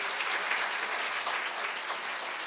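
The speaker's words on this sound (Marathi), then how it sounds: "एकदा सरांसाठी पुन्हा टाळ्या होऊ द्या की" Sustained applause from a lecture audience in honour of the speaker, dense steady clapping filling the whole stretch without voices.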